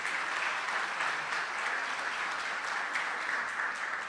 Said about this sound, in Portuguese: Por favor, mais aplausos aqui para os nossos parceiros.